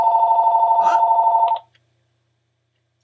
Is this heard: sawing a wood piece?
no